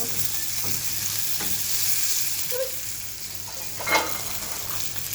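Chopped onion frying with salt in a hot pan, a steady close sizzle with occasional stirring scrapes and a brief louder clatter near the end.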